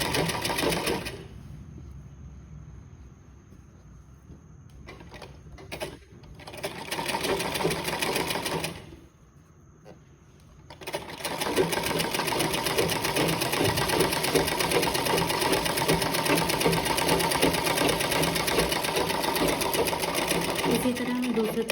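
A sewing machine stitches a blouse sleeve, running steadily and loudly with two brief pauses in the early part; speech is mixed in beneath the hum.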